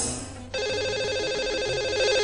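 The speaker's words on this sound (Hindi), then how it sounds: "तो लगाते हैं इन्हें अब कॉल और कर लेते हैं बात।" Telephone ringback tone heard as a studio places a call to a caller, a steady repeating electronic ring pattern starting after a brief moment, clear and alone with no talk.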